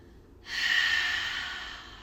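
A long, steady exhale of breath during a yoga session, a soft airy rush starting abruptly and fading slowly over about a second and a half, close and alone.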